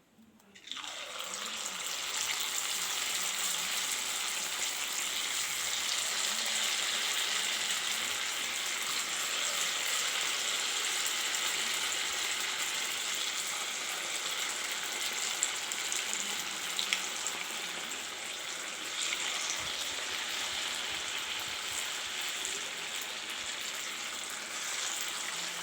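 Onion pakoda made from idli batter frying in hot oil in a kadai, a steady close, dense sizzle and bubbling that holds throughout with no talk over it.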